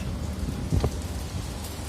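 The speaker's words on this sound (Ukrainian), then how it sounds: "Стандартна шотландська погода, дощ." Rain falls on a cruise ship deck in Scottish weather, a steady, soft wash of drops with one brief louder patter partway through and no voices.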